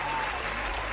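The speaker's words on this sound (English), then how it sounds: "applause for that" Studio applause marking a podcast milestone, a steady, dense clapping wash that fills the short moment at even loudness with no voice over it.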